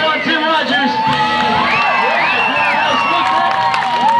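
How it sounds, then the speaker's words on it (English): A crowd cheers and whoops for BMX rider Tim Rogers at a 1996 GT Bicycle airshow demo at Acme Bikes in Katy, Texas, with excited children's shouts and scattered applause filling the whole stretch at steady loudness. "All right, you guys, let's cheer on Tim Rogers."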